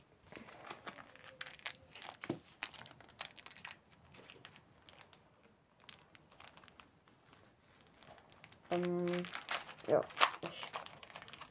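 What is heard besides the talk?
opening a trading card pack wrapper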